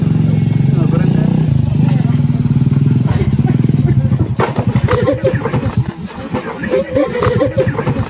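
An old, worn-out motorcycle engine runs with a low, steady rumble that turns choppier and more uneven partway through, while people talk loudly over it.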